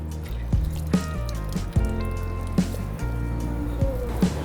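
Water is squeezed out of soaked dahi bhalla lentil dumplings by hand, giving wet squishes and drips in short bursts over a steady background hum.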